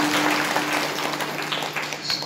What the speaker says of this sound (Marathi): पुन्हा एकदा टाळी वाजवा त्यांच्यासोबत.